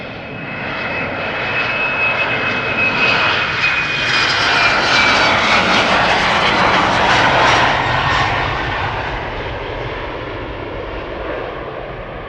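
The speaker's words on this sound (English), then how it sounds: "this is KLM flight 1085 going to Cork in Ireland in a moment. Embraer 190." A departing KLM Embraer 190 jet, about ten years old, at Schiphol Airport roars loud and close, swelling to a peak midway and then easing off, with a thin high whine early on.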